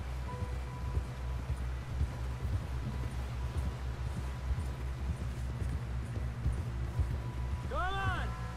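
Horse hooves galloping in the video game Red Dead Redemption, a steady rapid clip-clop under game music and ambience, with characters talking over it.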